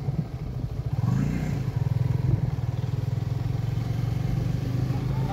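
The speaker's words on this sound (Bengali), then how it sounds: "এই হচ্ছে সম্পূর্ণ বাইক 250 সিসি।" A Suzuki Gixxer 250cc motorcycle on a ride, its engine a steady, close, throbbing low drone with a rapid pulsing beat that holds evenly throughout, with a brief swell early on.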